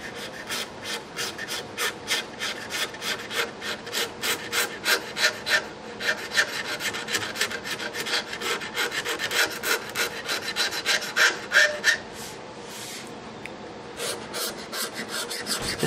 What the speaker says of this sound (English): and then I'm just scraping the binding